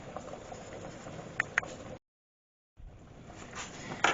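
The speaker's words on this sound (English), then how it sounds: "this is boiling water you've got here" A pot of water with potatoes for soup boils steadily, bubbling and pattering at close range, with a brief silent gap midway before the rolling boil resumes.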